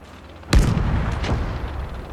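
A field gun fires in the World War II strategy game Call to Arms: Gates of Hell, Finnish campaign, a single loud, close cannon boom with a long rumbling tail.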